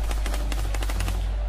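M249 machine gun from the Free Fire game lineup firing in a rapid sustained burst of closely spaced loud shots, heard at close range with no talking.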